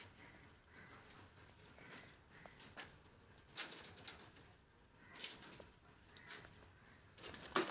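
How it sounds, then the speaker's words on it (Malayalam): Pet lovebirds chirp in scattered short bursts, some sharper than others, over a constant background hiss at moderate loudness. "ഇതേണ്ടോ ഞങ്ങളുടെ കിളികൾ"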